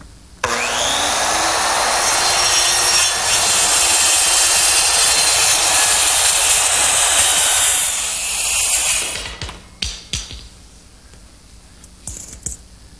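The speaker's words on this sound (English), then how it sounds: "Now to make the cross cuts, I'm using a straight edge clamp set square to the edges so I can guide the base plate of my small circular saw" Small circular saw guided along a straight edge clamp while cross cutting a board: a loud, steady whining roar for about eight seconds, then spinning down with a few knocks and clatters as the cut finishes.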